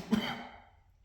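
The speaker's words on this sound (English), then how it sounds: "It still stinks pretty bad too. That's why I'm coughing." A single short, husky cough rises sharply and trails off, caused by strong paint fumes from a cement mixer converted to stir paint.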